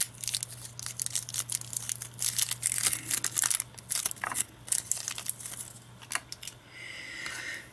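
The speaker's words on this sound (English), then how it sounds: "I cut them with scissors, the Oz Racing stickers" Scissors cut Oz Racing wheel-rim stickers from a decal sheet for a Red Bull RB7 Formula One scale model, with close, quiet snips and crinkling paper rustles in an irregular rhythm.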